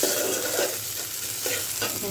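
Food frying in a pan on a home stove, a dense, steady sizzle and crackle close by with faint stirring, no talk.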